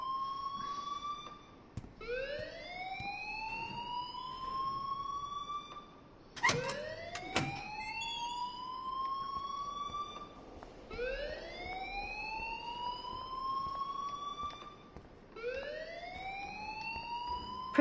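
A fire alarm blares through a school hallway in Life Is Strange Remastered, repeating rising siren-like wails about every four seconds, loud and steady, with a brief clattering burst midway.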